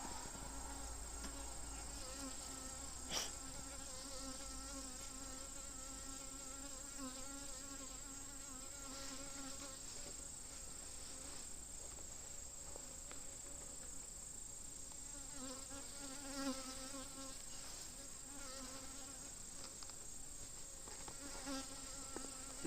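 Honey bees buzz steadily around an open, calm beehive during an inspection, a soft continuous drone with faint swells and no voices.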